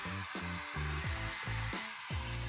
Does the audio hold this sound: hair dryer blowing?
yes